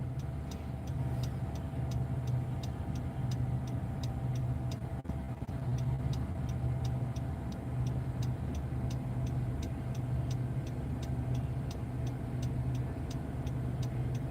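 A car idles and rolls slowly while parking near a protest gathering, with a steady low engine hum and a regular ticking like a turn signal running throughout.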